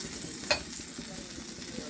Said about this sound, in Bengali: ভালো করে একটু ভাজি।